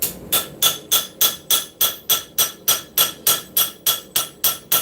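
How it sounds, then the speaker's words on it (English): A light auto body planishing hammer strikes steel in a fast, even rhythm, about three ringing blows per second, close and bright with no talking, in a forging shop. "It's my Planishing hammer. It's an auto body hammer."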